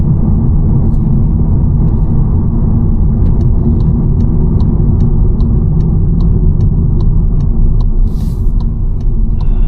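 Interior cabin rumble of a 2025 VW T-Cross 1.0 TSI 116 hp with DSG gearbox cruising on the road, loud and steady, with a regular ticking, likely an indicator, during the turn.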